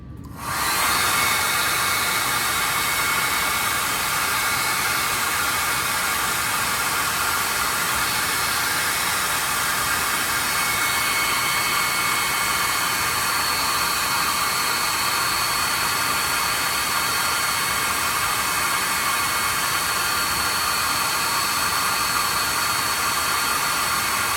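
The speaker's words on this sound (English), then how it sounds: "I'm gonna hair dry this so that it's dry as can be." A hair dryer blows steadily on a handmade wren's feet craft piece, a loud, constant close-up whoosh that starts abruptly and holds unchanged for over twenty seconds with no talking.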